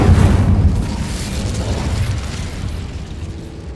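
Incendio fire spell cast in the game Hogwarts Legacy, a loud close burst of flame with a deep booming onset that rumbles and crackles, then slowly fades over a few seconds.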